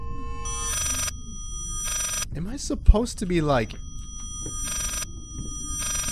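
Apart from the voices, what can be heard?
telephone ringing in video game Layers of Fear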